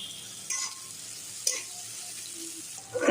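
Masala with salt fries in a pan for a mutton curry, a soft steady sizzle with a few brief stirring scrapes and a louder clatter at the end.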